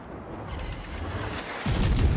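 Naval guns of the cruiser Elbing firing armour-piercing shells in World of Warships, a low rumbling barrage that swells into a louder, heavier boom near the end, with no talk.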